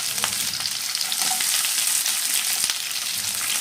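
Sliced onion hits hot oil that already holds popped mustard seeds for an okra stir-fry, producing a loud continuous sizzle with a few scattered crackles and no voices.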